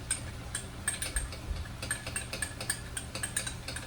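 A cornstarch and soy sauce slurry stirred in a bowl, giving rapid, light clinks and taps of a utensil in a steady, close rhythm with no talking.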